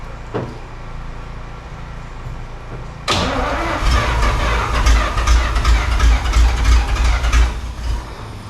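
A 1950 Pontiac Chieftain engine cranks after a quiet start, then catches and roars loudly into a rough, revving idle that runs steadily to the end.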